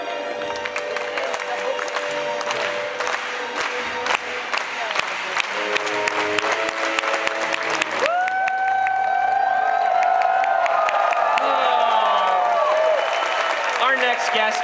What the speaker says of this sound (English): Let's do some slow clapping.